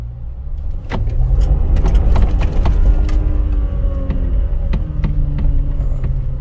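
A Tank 300 HEV hybrid 4x4 in sport mode accelerates on gravel, its engine and drivetrain building into a steady, loud rumble from close inside the cabin, with scattered rattles and clicks over the drone.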